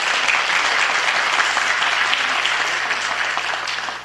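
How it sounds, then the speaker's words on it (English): A crowd at a city council meeting applauds steadily for a few seconds, a dense wash of clapping that fades slightly toward the end. "Let's give them a big round of applause."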